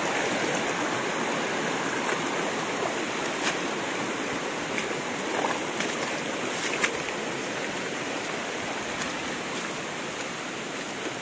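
A small village river runs as a steady, broadband rush of flowing water, constant and fairly close, with no voices over it.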